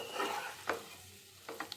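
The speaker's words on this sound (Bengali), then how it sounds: "এবার আমি সব কিছুকে একসাথে খুব ভালো মতন আবার কষিয়ে নেব।" Mixed vegetables with spices and salt being stir-fried in a pan, a soft close sizzle broken by a few sharp scrapes of the spoon, fairly quiet and brief.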